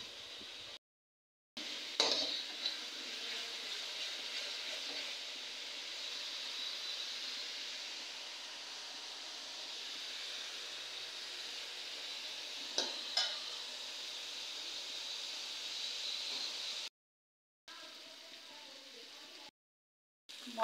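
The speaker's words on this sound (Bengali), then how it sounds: "এখন আমি সুন্দর করে মশলাটাকে কষিয়ে নেব।" Spice paste stirred and sautéed in a pan while singhi fish fry for a dish with yard-long beans and eggplant; a steady sizzle runs throughout with occasional scraping stirs, fairly quiet, with brief silent gaps.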